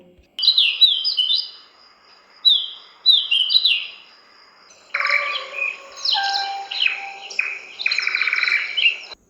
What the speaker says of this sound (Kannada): ಅದೋ ವಿವಿಧ ಪಕ್ಷಿಗಳ ಸುವಾಲೆ.